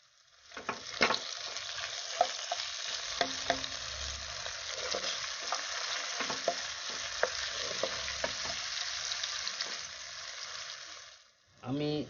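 Sliced tomato fries with okra in a pan, a steady soft sizzle running underneath irregular scrapes and clinks of a spatula. The sound is fairly quiet and close, with no speech.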